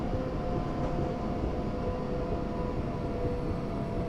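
Electric train from Train Simulator 2016 running on the East Croydon to London Bridge route, a steady loud rumbling drone with a faint whine, continuous throughout and no voices.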